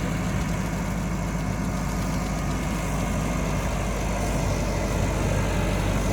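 A Massey Ferguson 385 tractor engine idles nearby, a continuous low rumbling chug with steady vibration throughout and no voices.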